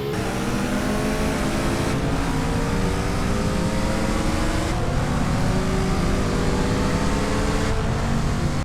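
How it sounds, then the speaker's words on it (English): A modded, realistic car engine in GTA San Andreas, a loud continuous close engine drone with rising revs that climb through gear shifts, repeating several times. "I added realistic car sounds. Now every car actually sounds different, and way more like their real-life counterparts"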